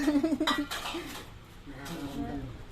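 Plates and dishes clatter at dinner time for a family, a few close clinks and knocks near the start, then quieter rattling with soft background voices.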